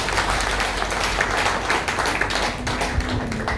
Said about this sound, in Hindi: आप एक बार फिर से जोरदार ताली अपने लिए बजाते हैं